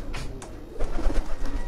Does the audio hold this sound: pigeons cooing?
yes